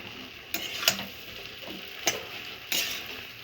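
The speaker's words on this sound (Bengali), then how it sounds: "ডালটা দিয়ে একটু নেড়ে চেড়ে তারপরে দিয়ে দেব সেদ্ধ করা শাকটা" A spoon stirs lentils and boiled greens in a hot pan for a pumpkin greens and pea dal, a soft continuous sizzle broken by four distinct scraping clinks against the metal.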